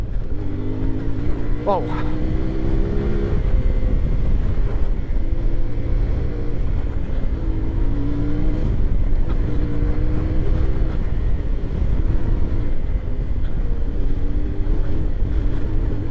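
The CFMOTO Ibex 450 (450MT) motorcycle engine hums steadily and loud through a break-in ride on and off road. Its pitch rises and falls with the throttle under rushing wind, and a rider speaks over it.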